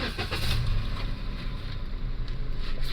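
A vehicle pulls out of a residential parking spot, a steady engine rumble holding close and fairly loud throughout with no talking over it.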